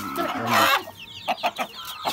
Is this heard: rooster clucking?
yes